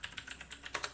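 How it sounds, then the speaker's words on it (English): Quick keystrokes on a computer keyboard as a short terminal command is entered, about eight light clicks in an uneven rhythm, close and fairly quiet. "then you can type"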